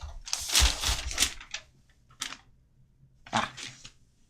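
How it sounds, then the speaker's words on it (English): Paper pages of a notebook being flipped and shuffled nearby in a few quick bursts, with short pauses between handfuls of pages. "if you can hear that shuffling, that's me flipping through my notebook"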